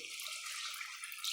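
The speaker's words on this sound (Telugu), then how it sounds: "చూడండి కొద్దిగా నీళ్ళు పోస్తాను" Water poured into a pot of chicken curry with broad beans and potatoes, a brief soft splashing trickle heard up close and fairly quiet.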